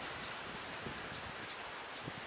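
Steady rain pours down on an outdoor horse racing training track on a Sunday morning, a continuous broadband hiss with faint scattered patters, even and unbroken throughout with no voices.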